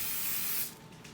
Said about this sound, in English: We are to spray the baking dish generously.